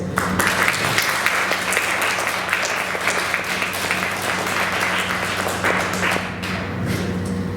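An audience at an in-person literary reading applauds the hosts: loud, sustained clapping from a full room, dense and even throughout, easing slightly near the end.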